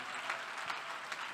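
Church congregation at a family service clapping, a short, fairly faint burst of steady applause.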